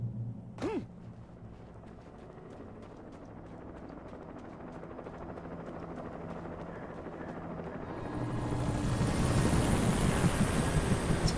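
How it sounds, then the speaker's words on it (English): A helicopter hovers in the video game Alan Wake, its rotor chop starting faint and rising into a loud, dense thrumming roar that swells over the final seconds. "A helicopter for this guy?"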